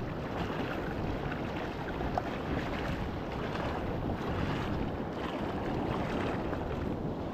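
Continuous roaring surf and wind noise at high tide fill the recording, a dense, unbroken wash of large crashing waves with gusts buffeting the microphone.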